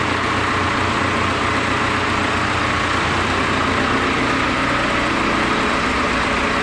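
A diesel Audi A4 2.0 TDI engine runs steadily during a decarbonization test with a hydrogen cleaning machine, giving a loud, continuous low rumble with broadband hiss and no speech.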